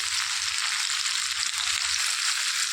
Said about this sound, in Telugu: దీనిలోనికి రుచికి సరిపడా ఉప్పు వేసేసుకొని కలిపేసుకోవాలి.